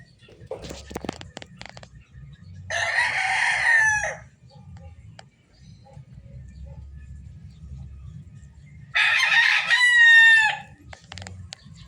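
A gamecock stag crows twice in a backyard, each loud, close crow lasting over a second and separated by several seconds of quieter background rustling and low noise.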